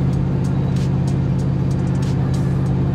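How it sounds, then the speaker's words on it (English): A stock Chevrolet Silverado with an LQ4 6.0 V8 drones steadily and loudly from inside the cab, a low engine hum holding under faint road noise with no talk. "this thing is hitting the next gear pretty dang quick"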